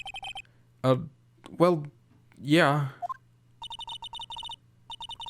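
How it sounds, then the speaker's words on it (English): A telephone in the Ace Attorney video game rings after a redial, with repeated electronic ring bursts at the start and again near the end, separated by a few short spoken words. "You pressed redial on that there phone,"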